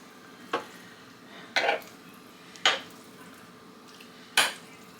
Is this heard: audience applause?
no